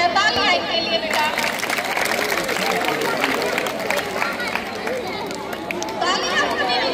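Students and parents clap at a 78th Independence Day celebration at GMSSS School Kinana, a dense, lively round of applause with crowd chatter that swells and fades over several seconds.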